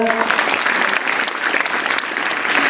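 Loud, steady applause from an audience at a felicitation ceremony honouring teachers and staff, continuous clapping from a crowd filling the whole moment.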